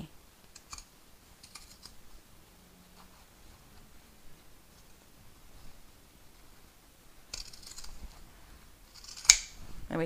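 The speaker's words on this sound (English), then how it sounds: "so I think all of my curves are nicely trimmed now" Scissors snip around the curves of a fabric handbag lining: scattered quiet cuts and clicks near the microphone, then a louder cluster of snips with one sharp close click near the end.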